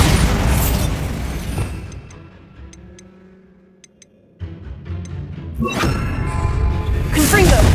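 Bombarda explosion spell in Hogwarts Legacy, loud booming blasts at the start and again near the end, separated by a quieter stretch with faint ticking sounds and low game ambience.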